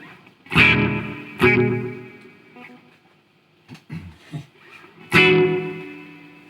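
An electric guitar runs through an Old Blood Noise Endeavors Black Fountain delay set to a short time, giving struck chords a springy, reverb-like short echo, with a few quieter plucked notes between the strums.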